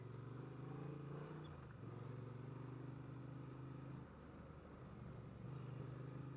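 A Honda Transalp 750 motorcycle ridden through soft sand, its engine droning steadily with small rises and dips in revs, heard faintly from the riding position with no talk.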